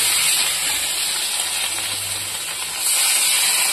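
Pieces of rohu fish, rubbed with salt and turmeric, fry in hot oil in a Bengali kitchen, giving a steady, dense broadband sizzle and hiss that runs unbroken throughout at close range.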